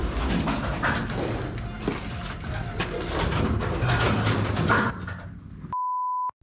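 Pigeon or dove cooing inside an abandoned hotel, mixed with loud rustling and room noise, followed by an electronic beep after a sudden cut to near silence.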